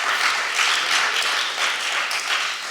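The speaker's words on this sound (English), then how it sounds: "Let's give our panel a round of applause." Steady applause from a live podcast audience at a church campus event, welcoming a discussion panel; dense, even clapping holds for the whole stretch with no voices over it.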